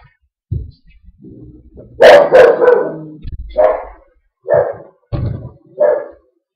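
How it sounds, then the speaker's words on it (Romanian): A dog barks about six times in irregular, loud bursts, close by, with a short whimpering patch between barks and a brief mutter of speech early on. "Știu că este că am enervat câinele"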